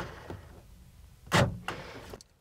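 Door lock actuators on a second-generation Honda Passport clunk a few times in close succession, a soft click followed by a louder thunk and another latch sound, heard up close in a quiet cabin.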